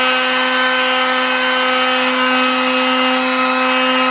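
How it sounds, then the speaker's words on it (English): A power sander hums steadily and loudly up close while spot sanding stained wooden stairs, a continuous whirring drone with a strong tonal whine and no talking. "you'll see we're doing a little bit of spot sanding."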